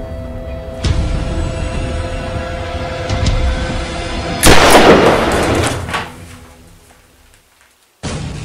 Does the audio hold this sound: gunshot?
yes